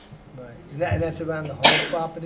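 A single sharp sneeze bursts out from someone in a town board meeting room, cutting briefly across ongoing conversation, with people talking before and after it.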